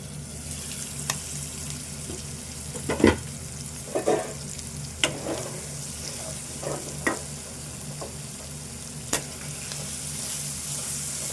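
Goat liver curry frying and being stirred in a pan, giving a steady low sizzle with scattered clinks and scraping taps from the stirring spoon, and no talking.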